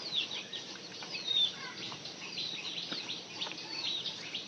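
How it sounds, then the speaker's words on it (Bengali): Chickens cluck and call outdoors in the countryside, with scattered bird chirps and brief wing flutters over a low rural background; no one speaks. "আর ওই যে জঙ্গলে দেখেন আরো মুরগি যাইতেছে"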